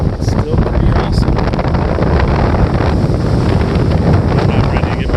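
Surf rolls onto a windy North Carolina beach as strong gusts buffet the microphone, the waves a loud, continuous roar under constant wind rumble, with no clear breaks between them.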